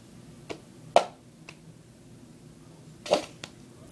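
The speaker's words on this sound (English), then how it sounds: "so you got clap, clap, tap, tap, tap, clap." A handful of sharp hand claps and light cup taps in the cup song rhythm sound in a sparse, uneven pattern against a quiet background.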